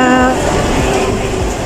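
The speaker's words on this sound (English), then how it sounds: "we just wait for the Disneyland train" The Disneyland Resort line train at Sunny Bay station in Hong Kong rumbles as a steady rail hum, with a tonal whine fading out early as the train moves, close and fairly loud.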